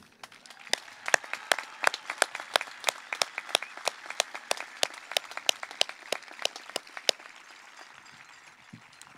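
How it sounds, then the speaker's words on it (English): At a 2022 Menlo-Atherton high school commencement ceremony, sparse applause greets the graduates. Sharp, distinct handclaps come in a steady rhythm before fading out near the end. "Could you please join me, Mr. Luscote, the principal, in giving our graduates a round of applause today."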